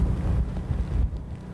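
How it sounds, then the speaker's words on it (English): Strong gusts of blizzard wind roar a block from the beach on Atlantic Avenue in Atlantic City, buffeting the microphone with a loud, low, rumbling rush that swells and dips steadily, with no voices. "The winds are gusting."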